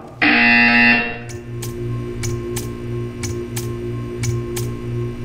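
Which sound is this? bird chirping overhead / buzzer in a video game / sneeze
buzzer in a video game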